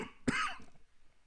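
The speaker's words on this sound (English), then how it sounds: "Excuse me for coughing." One sharp, close cough bursts out, then trails off into quiet breathy noise, with no talking around it.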